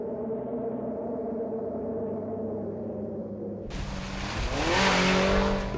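A rally car on the Raid de Himalaya, its engine humming at a steady mid pitch and then jumping abruptly into a loud, close roar that climbs and revs as it accelerates, with a hint of tyre noise.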